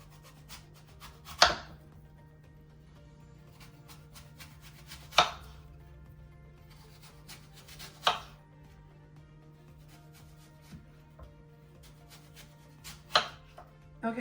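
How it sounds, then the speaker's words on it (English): A knife slicing peeled apples into thin slices for Dutch apple pie, giving four or five sharp, separate cuts against a board spaced a few seconds apart, close and quiet with no talk. "I'm gonna slice them in kind of like thin slices, not too thick"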